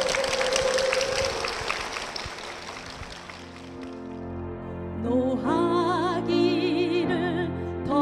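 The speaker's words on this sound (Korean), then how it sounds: "여러분 큰 박수 부탁드립니다" A church congregation applauds after a testimony, loud clapping that tapers off over about four seconds before a sung worship melody with instruments takes over.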